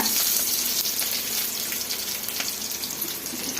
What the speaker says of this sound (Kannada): ಜೀರಿಗೆ ಮೆಣಸು ಹಾಕ್ಕೊಂಡು ಸ್ವಲ್ಪ ಫ್ರೈ ಮಾಡ್ಕೊಳ್ಳೋಣ